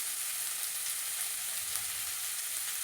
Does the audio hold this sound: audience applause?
no